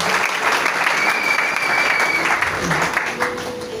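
A church congregation applauds loudly and continuously, a dense close roar of clapping that fades slightly at the end.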